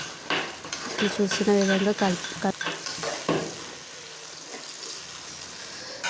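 Tomato paste mixture fries in a pan while being stirred, with close scraping strokes over a soft sizzle; a person speaks briefly near the start.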